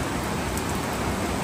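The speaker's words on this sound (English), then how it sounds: "Here comes another band of rain." Steady broadband rain hiss pours over a house in Antique, Philippines as another band of rain moves in, loud and continuous with no break or voices.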